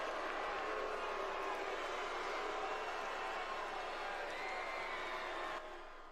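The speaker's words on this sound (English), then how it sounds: "People are actually booing Edge." An arena crowd at a WWE Raw show booing wrestler Edge, a dense, sustained roar of many voices, distant and steady, fading slightly at the end.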